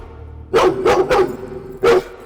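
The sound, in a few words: dog barking in a movie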